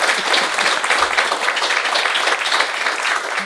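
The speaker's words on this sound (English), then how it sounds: "Let's give Jonathan a round of applause." A studio audience applauds Jonathan with steady, dense clapping that fills the whole stretch at an even level, no voices rising above it.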